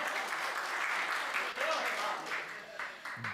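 Steady crowd clapping from an audience at a Hindi speech gathering continues through the clip, tapering slightly near the end, with a speaking voice layered on top.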